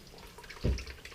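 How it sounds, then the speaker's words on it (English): Old engine oil from a 2005 Honda CR-V drips into a bucket during an oil change, a single soft splashing drop standing out briefly against a quiet background. "make sure that it's dripping into the bucket"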